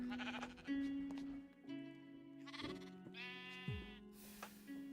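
Sheep in the Minecraft video game bleating repeatedly, several wavering baa calls in succession at moderate loudness, with no talk over them.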